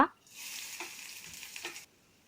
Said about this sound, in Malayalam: വെളുത്തുള്ളി, പച്ചമുളക്, ഇത് മൂന്നും ഇട്ട് നല്ലതുപോലെ ഒന്ന് ഇളക്കി കൊടുക്കാം